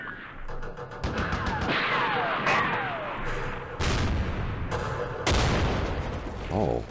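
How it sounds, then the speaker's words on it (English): A Saladin armored car firing in Campaign Series Middle East, several loud, abrupt booming shots spaced a second or so apart, each with a sharp onset and short decay, amid whistling projectile sounds. "Oh, the Saladin was firing at that."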